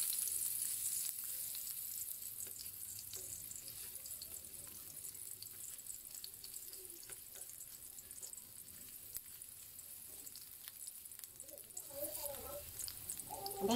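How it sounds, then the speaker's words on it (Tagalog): Ginger sautéing in hot oil for chicken tinola gives a low, steady sizzle with occasional light clinks, faint and close, while a voice talks softly over it in places. "mainit na po yung mantika. First po na ang gagawin natin, igisa po muna natin yung luya."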